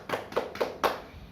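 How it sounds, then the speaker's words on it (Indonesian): A class claps together in four separated bursts, each a quick cluster of hand claps at moderate loudness, with the final burst strongest, in an Indonesian classroom. "Ya, beri tepuk tangan untuk kita semua."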